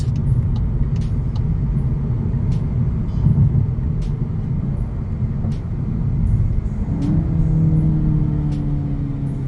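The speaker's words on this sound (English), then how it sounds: "will it let you change down and hold the gears?" A 2022 VW Golf 8 GTI heard from inside the cabin: a steady low engine and road rumble, then a rising engine note as it downshifts and accelerates in the latter part, with a few faint clicks over the drone.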